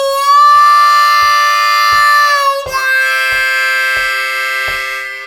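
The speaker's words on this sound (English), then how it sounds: "play a 4-blow with a little bit of the 5-blow bleeding into it" A C harmonica plays a lick from a song, a bent 4-hole draw moving to a 4-hole blow with a little of the 5 blow bleeding in. The notes are loud, close and sustained over a soft, steady click.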